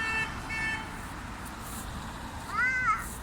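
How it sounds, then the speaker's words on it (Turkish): A short cat meow rises and falls near the end, preceded by faint high chirps over a quiet room background. "Kedi içeri girdi."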